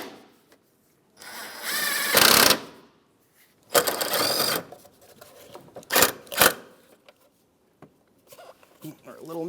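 A power driver runs 10mm bolts back into the transmission mount of a 2007-2015 Mazda CX-9, several whirring bursts of a few seconds each, close by, with short pauses between them.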